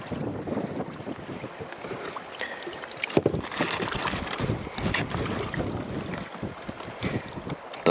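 Gusty wind buffets outdoors over open water on Lake Nangujärvi in Inari, Finland, with rustling, blustery noise and light splashing and knocking around a small boat.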